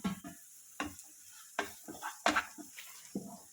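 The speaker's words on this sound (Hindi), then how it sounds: "अभी मैं इसमें ओनियंस ऐड कर दूंगी और ओनियंस को भी हमें ज़्यादा कुक नहीं करना है, सिर्फ सॉफ्ट करना है।" Onions frying in a pan for Schezwan gobhi Manchurian are stirred with a utensil, producing soft sizzling and a series of separate clinks and scrapes against the pan at a close, quiet level, with no talking.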